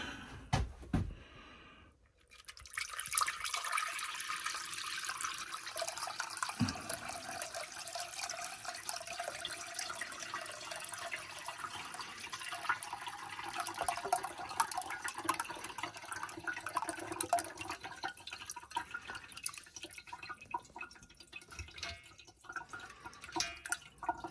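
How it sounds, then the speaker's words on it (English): Liquid is poured through a filter while sterling silver is being refined. A steady, faint trickle and dripping goes on for about twenty seconds, with no talking. "I'll go ahead and pour this out."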